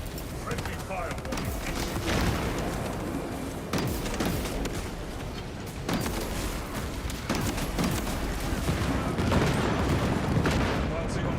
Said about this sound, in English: Oh no, the explosions.